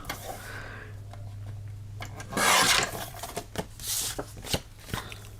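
Scraping and rasping as a handmade craft piece is trimmed down by hand, close and fairly quiet, with short bursts of rubbing and filing strokes separated by pauses and small ticks.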